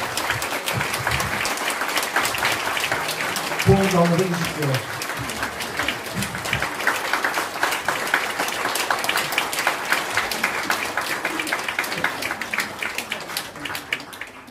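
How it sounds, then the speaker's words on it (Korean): A church congregation at a Korean Presbyterian pastor's retirement and installation service breaks into sustained applause, a dense, steady clapping that fills the whole stretch, with a brief spoken phrase from a voice over it. "박수로 축하드리며 감사하겠습니다"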